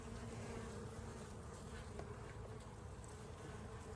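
Honey bees hum in a dense, steady drone over a hive frame, close and continuous from start to finish, with the buzz of many insects blending into a single low, even tone and no voices.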